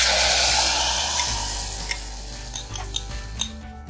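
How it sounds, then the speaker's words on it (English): Curry being stirred in a pan right after red chili powder goes in, a steady close sizzle with scattered light clicks and scrapes of the spoon, no voices. "As soon as you add red chili powder, give it a stir."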